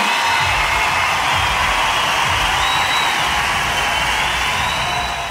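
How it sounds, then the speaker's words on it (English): Large crowd at Euro Shed Vision in Liverpool, a song-contest style night event, roaring and cheering steadily throughout, a dense loud wash of voices with occasional whoops. "just listen to the crowds here tonight in Liverpool"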